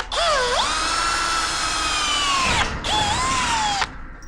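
A power drill drives a self-tapping screw in two loud bursts, the first whining up and holding for about two seconds, the second shorter, with a brief pause between.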